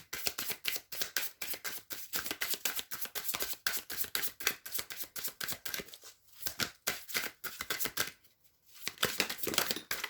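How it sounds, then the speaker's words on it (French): Tarot cards are shuffled and handled in a dense run of crisp riffling and sliding strokes, with papery flicks close by and a brief pause near the end, no voice. "Elle va encore prendre peut-être deux cartes."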